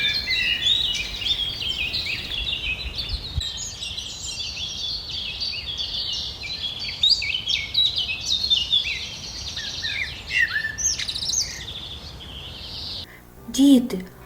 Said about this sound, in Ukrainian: пташки співають. Ось послухайте, як вони співають навесні.